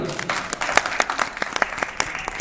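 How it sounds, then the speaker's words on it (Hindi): Audience applause at a welcome function in Rishikesh, Uttarakhand: a steady run of brisk hand claps, moderately loud and fairly close, with no talking over it. "आपके लिए तालियां।"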